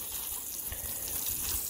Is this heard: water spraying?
yes